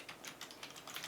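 Rapid typing on a computer keyboard while setting up a Meta pixel in Google Tag Manager, with irregular bursts of close, light key clicks over a quiet room and no voices.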